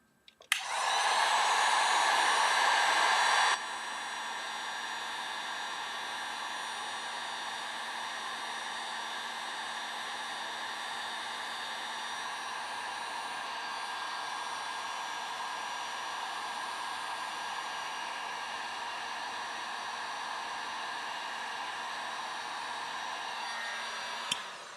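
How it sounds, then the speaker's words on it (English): A heat gun blows hot air onto a solder joint during a fan swap on a Creality CR-10 V3 3D printer. A steady, close rush of air starts loud for a few seconds, then drops to a quieter, even hiss that holds until it cuts off. "I'm going to take my heat gun and I'm going to set it well away from me."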